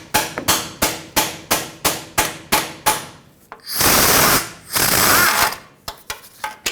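Half-inch socket hammered onto an exhaust manifold nut on a 2004-2009 Ford F-150 5.4L 3-valve: a steady run of about a dozen sharp metallic strikes, then two long bursts of grinding ratchet noise, then a few more taps, close and loud, no talk.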